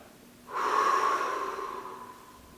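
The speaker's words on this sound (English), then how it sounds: "I breathe out." A strong, forceful breath expelled through the nose during Nauli Kriya yoga practice, a single sustained rush of air that starts abruptly and fades slowly over about two seconds, heard close and alone.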